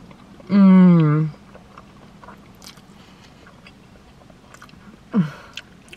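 Someone bites and chews chili cheese fries close to the mic with soft, scattered crunches, broken by a loud hummed 'mmm' of enjoyment and a short voiced sound later.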